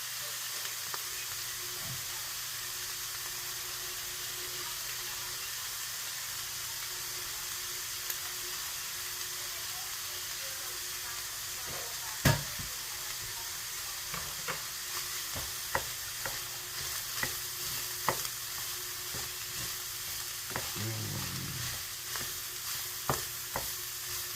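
Onion and garlic frying in a pan for shepherd's pie, a continuous moderate sizzle with occasional utensil clicks and stirring scrapes across a long stretch, no talk.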